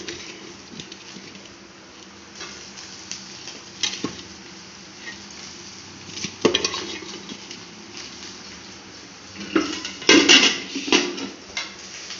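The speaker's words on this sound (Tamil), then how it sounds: "இப்போ சாப்பாடு கிளறிடலாம்." Cooked rice is stirred in a metal pot, with scattered scraping and clinking of a utensil against the pot, quiet and intermittent with a few louder knocks.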